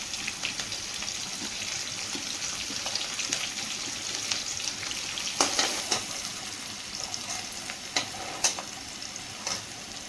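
Curry leaves and onion frying in oil in a home kitchen, giving a steady broad sizzle with a few sharper pops and stirring clatters, close by, no talking.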